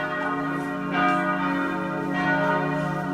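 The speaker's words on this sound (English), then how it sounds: "Then the church bells began as we walked toward Station 9." Church bells ring in Jerusalem near Station 9 of the Via Dolorosa, a sustained, overlapping peal of tones with swelling strikes, fairly loud and steady throughout, with no talk.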